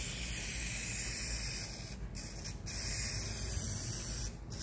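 Contact cement hisses steadily from a spray nozzle as a bead is laid onto a foam vent filter for a Lemans van vent, a close, continuous spray with two short pauses partway through.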